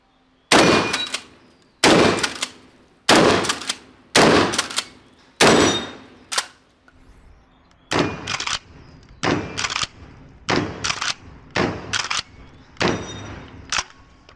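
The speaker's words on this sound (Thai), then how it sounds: "เวลาเรายิงเนี่ย เราก็ต้องยิง 1 นัด แล้วก็ปั๊มนะครับ ยิงอีก 1 นัดแล้วก็ปั๊มนะครับ" A pump-action shotgun for home defence fires a series of sharp, loud shots about one every second or so, with racking clacks of the pump between them. The reports grow slightly softer in the second half, and no one speaks.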